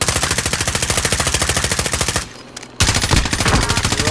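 Rapid automatic gunfire in Warzone, a loud, steady stream of close shots that breaks off for a moment and then resumes.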